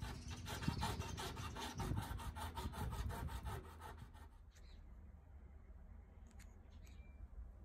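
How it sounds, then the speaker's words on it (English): Rapid, rhythmic rasping strokes of a hand file taking the excess off metal pins on a marking knife for about four seconds, close and steady, then stopping and leaving quiet room tone with a few faint clicks. "filed off the excess part of the pins"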